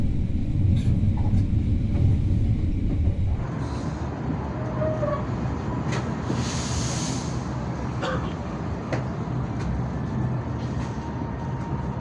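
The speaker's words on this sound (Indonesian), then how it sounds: "KA Bengawan kembali diberangkatkan dari stasiun Kebumen jam 22:55" The KA Bengawan passenger train leaves Kebumen station at night, heard from inside as a steady, loud rumble of wheels and carriage noise with occasional clicks and rattles, continuous throughout.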